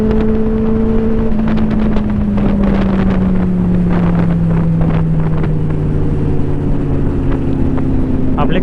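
A Benelli 600i and a Street Triple 765 ride together on the road, their loud exhausts droning steadily with a slowly falling engine tone under heavy wind buffeting, and some muffled talk mixed in.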